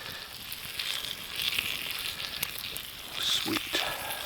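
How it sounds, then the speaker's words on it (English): Steady sizzling of onions frying in a pan, a continuous crackling hiss with small pops, close up and without talk. "Onions are sizzling away."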